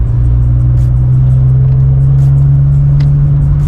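A BMW engine hums steadily at about 2,500 RPM in fifth gear at roughly 75 km/h, a loud, even low drone with constant road and cabin noise and no speech.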